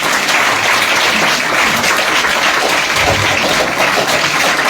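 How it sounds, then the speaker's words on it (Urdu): Loud, sustained applause from an audience at a religious school graduation gathering, a dense wash of clapping that runs steadily throughout without a break. "زوردار تالیاں بجا کر خوشی کا اظہار کریں"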